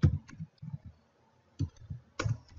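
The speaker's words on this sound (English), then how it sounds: "click on add a site, which I'll do here, type in the URL" Computer mouse clicks and a few keyboard keystrokes while entering a website address, sparse and close up, in short bursts separated by quiet gaps.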